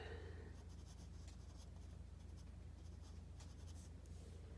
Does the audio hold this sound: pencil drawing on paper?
yes